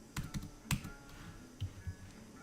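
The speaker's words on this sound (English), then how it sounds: "I'm typing with one finger." Slow, irregular clicks of a computer keyboard tapped with one or two fingers, a few sharp close keystrokes separated by short pauses in a quiet room.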